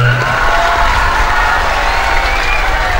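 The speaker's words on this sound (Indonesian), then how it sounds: "Tepuk tangannya mana?" Audience at an end-of-year school ceremony claps and cheers steadily as a student's university admission is announced, a dense continuous wash of hands and voices throughout.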